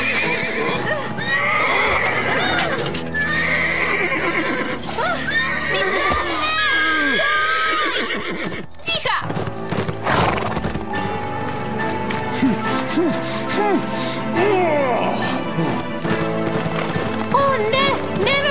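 A horse neighs and whinnies repeatedly, with hooves clip-clopping and running, over a busy mix of shouting children, crowd noise and music on a ranch.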